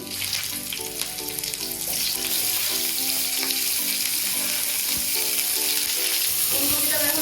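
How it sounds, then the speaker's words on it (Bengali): Cauliflower pieces frying in hot oil crackle and sizzle continuously at close range, with soft stirring scrapes and occasional clinks; nobody speaks. "ফুলকপিটা ভেজে নিচ্ছি"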